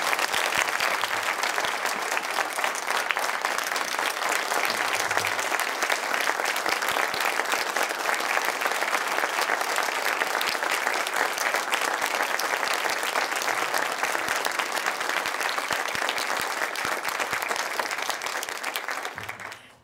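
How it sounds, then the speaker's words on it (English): A banquet audience at a college distinguished alumni dinner gives a long round of applause, a thick, even wash of clapping from a large room that holds steady for about twenty seconds before cutting off. "one more round of applause for our most"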